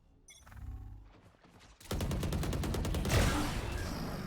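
Gunfire in the Valorant video game during a collegiate esports match, including Operator sniper rifle shots: scattered sounds at first, then a dense, loud burst of rapid repeated shots that continues to the end.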